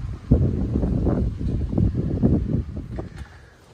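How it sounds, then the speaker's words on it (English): Wind gusts roar and buffet the microphone on a windy night in woodland, a steady rumbling rush that swells and eases throughout. "It's a windy night."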